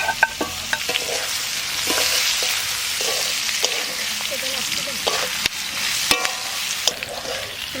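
Chopped garlic, ginger and green chili sizzle loudly in hot oil for chilli mushroom, with steady close frying hiss and repeated clicks of a spoon stirring the pan, no talk.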